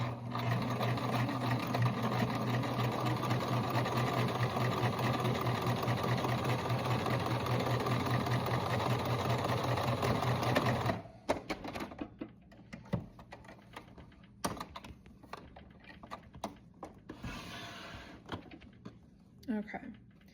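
A sewing machine stitches a fabric cup sleeve with a steady, continuous motor whir for about eleven seconds, then stops, leaving scattered handling clicks and rustles.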